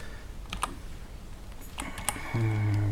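Someone types on a USB computer keyboard plugged into a small micro-desktop computer, making a few scattered, faint key clicks nearby before a steady electronic tone starts near the end.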